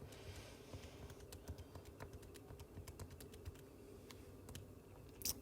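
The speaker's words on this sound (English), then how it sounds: "You just have to type it in your calculator" Quiet, rapid tapping of keys on a calculator while numbers are entered, a faint irregular patter of small clicks over low room hum.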